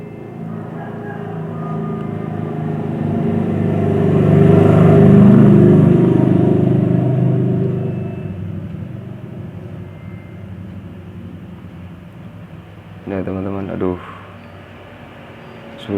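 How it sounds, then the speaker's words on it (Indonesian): Busy road traffic rumbles steadily in the background, with a passing vehicle swelling loud and then fading. A short burst of clanking sounds near the end. "Rame di sini teman-teman, rame kendaraan ya, berisik sekali suaranya."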